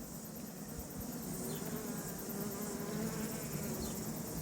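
Steady insect buzzing from bees, a continuous droning hum with no voices, fairly close and even in level throughout.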